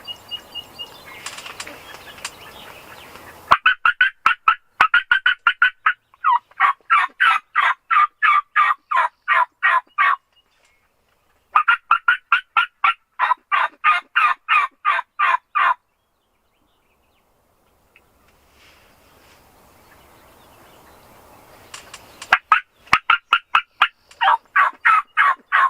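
Wild turkeys gobble and call in a hunting setting, with bursts of rapid, rattling gobbles repeating in clusters separated by quiet gaps, fairly close and loud.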